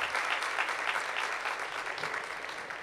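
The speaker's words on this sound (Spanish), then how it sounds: "un aplauso también para Mayra y para Javier." An audience at a university choir celebration breaks into steady, sustained applause from many hands, a dense crackling clapping with no break.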